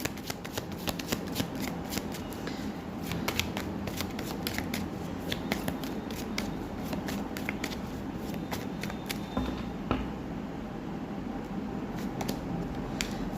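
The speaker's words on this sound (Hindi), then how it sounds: "यहाँ से मैं 2 कार्ड लूँगी आपके लिए।" Tarot cards being shuffled and handled for a reading, a continuous close run of riffling and flicking card sounds with crisp snaps throughout and no speech.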